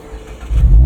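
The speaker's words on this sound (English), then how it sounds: "One of my favorite things about the Miata, especially with an exhaust, is the startup." A Mazda MX-5 Miata ND3 with an aftermarket exhaust starts up, its engine catching with a brief, loud low rumble that swells in the last half second.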